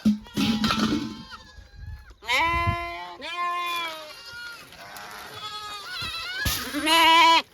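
Several goats bleat close by in overlapping, wavering calls, some long and quavering, with a voice or two and rustling in the background.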